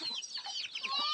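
Palawan native chickens, free-ranging with their chicks in a rural yard, cluck and chirp in a busy overlapping chorus, close by and fairly steady throughout.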